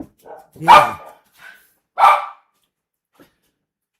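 Two loud, sharp barks from a dog, spaced about a second apart, with softer yips and whimpers between and a brief spoken word, then silence.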